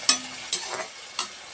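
Bitter gourd and potato fry in a pan, giving a few short sizzling bursts of stirring, close and moderately loud, with a thin steady hiss between them and no voices.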